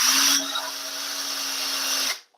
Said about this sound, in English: I'm going to drill right straight down the middle